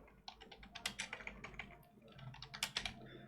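Fingers tap out C program code on a computer keyboard in a quiet, uneven flurry of clicky keystrokes, with a brief pause midway, and nobody talks.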